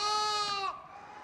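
One close, loud lamb bleat carries a wavering, strongly harmonic cry and then drops away, inside a farm pen where lambs are kept with their mothers.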